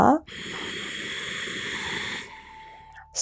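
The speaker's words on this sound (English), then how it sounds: "with an exhalation like you're saying sa" Ujjayi pranayama exhalation pushed through a constricted throat makes a long, steady, close breathy hiss lasting about two seconds, framed by short sharp breath sounds at either end.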